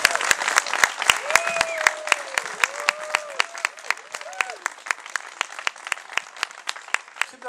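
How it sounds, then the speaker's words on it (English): Sparse, steady applause from a small audience at a backyard spoken-word and music show, individual claps distinct and evenly paced, with a voice talking over it. "Keep the round of applause going for Shiri."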